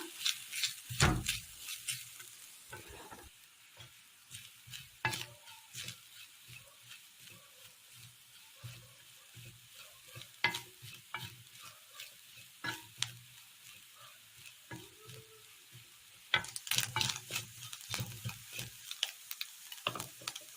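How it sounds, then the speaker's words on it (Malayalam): Soft crackling sizzle of coconut frying in oil left from frying shallots, with repeated scraping and stirring knocks from a utensil against the pan throughout. "ചെറിയുള്ളി വറുത്ത എണ്ണയിൽ തന്നെ അരമുറി തേങ്ങ തേങ്ങ ഇട്ട് കൊടുത്ത് ഒന്ന് വാട്ടിയെടുക്കാം"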